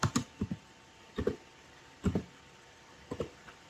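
Short bursts of computer keyboard typing while entering code into an interactive Node.js session, heard as close, crisp clusters of key clicks separated by brief pauses.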